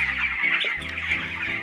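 Farm chickens at a poultry farm, some with an eye ailment from a cold, cluck steadily and close by, a dense chorus of short calls with no talk over them.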